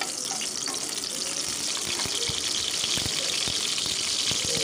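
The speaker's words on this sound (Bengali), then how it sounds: "তেজপাতা শুকনো লঙ্কাটা ভাজা হতে দিয়ে দিচ্ছি" Bay leaf and two dried chilies frying in oil in a wok, a continuous close sizzle with sharp spitting crackles and no voices.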